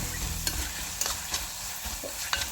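Onions soften as they sauté in a pan, with a continuous frying hiss and several sharp stirring scrapes spaced about half a second apart, all close and moderately loud with no speech.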